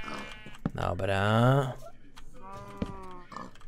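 Pigs in the video game Minecraft give short grunting oinks, close and clear, mixed in with a player speaking over the game.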